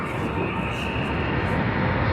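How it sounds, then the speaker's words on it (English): Emirates airliner engines spooling up at Sydney Airport, a steady, broad roar filling the air without a break. "We can hear the engine spooling up"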